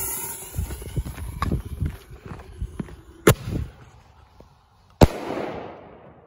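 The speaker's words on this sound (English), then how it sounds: "So here we go. Let's see this ball shell." A fake ball shell firework launched from a single mortar tube on a cold night gives a loud thump, with a second sharp crack about two seconds later, over background rustle and crackle.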